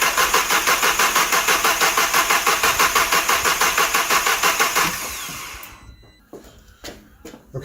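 VW Golf MK6 GTI EA888 engine cranking on the starter with its coil packs removed to build oil pressure: a fast, even, pulsing churn for about five seconds that then stops, leaving faint clatter.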